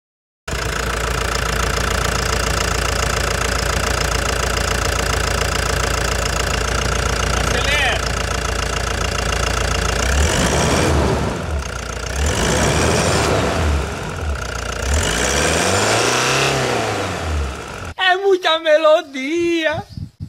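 A 2013 Toyota Hilux 3.0 pickup engine with a leaking filter idles with a knocking rumble, then cranks and revs up loudly several times, with people talking over it near the end.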